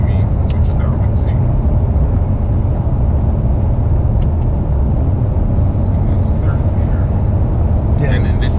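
A 2016 Ford Mustang EcoBoost four-cylinder with a six-speed automatic runs in sport mode, its engine and road noise a steady, loud rumble filling the cabin throughout.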